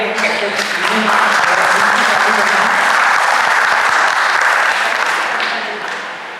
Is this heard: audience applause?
yes